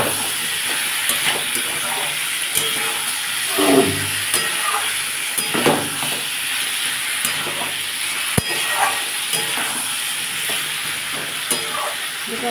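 Spice paste sizzles and hisses in oil in a pan while being cooked down for prawn and greens curry, a continuous close frying crackle with occasional spatula scrapes and stirring swishes.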